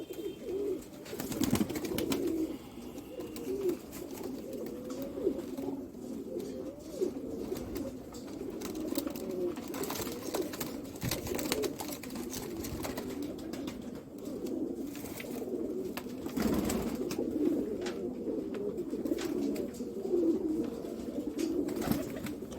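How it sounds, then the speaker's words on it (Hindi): Sialkoti rooftop pigeons coo continuously in a low, soft murmur, several birds overlapping at moderate distance, with faint rustles and occasional sharper noises from the loft. "ये छत वाला बटेरा कबूतर है"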